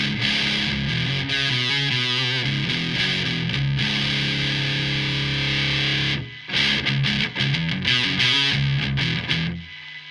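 Heavily distorted electric guitar played through a distortion pedal, chords and riffs, thick and saturated, continuous and loud with a brief dip partway through.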